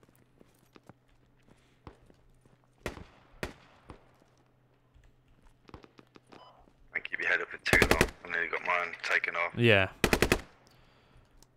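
Gunfire in the military shooter Squad: scattered sharp shots crack out at a distance, then a voice talks briefly over further loud bursts of rifle fire.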